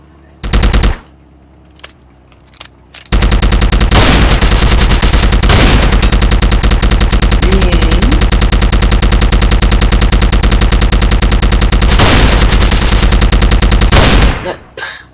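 Sustained automatic gunfire from the online shooter game Combat Online, loud and continuous for most of the stretch after a few brief opening bursts, with a steady mechanical rattle.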